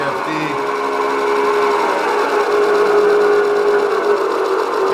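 A Kearney and Trecker milling machine slowed down on a variable frequency drive hums steadily with a sustained whine and mechanical whir, loud and close, holding an even level throughout.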